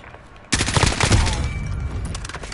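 Automatic fire from an M4A1 rifle in Modern Warfare breaks out abruptly after a quiet moment, continuing as a loud, dense, sustained volley of rapid shots that stays close and fills the rest of the moment.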